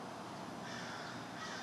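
Crows caw continuously in a garden, a dense, distant-sounding wash of harsh calls that overlap steadily with no pauses and no voices.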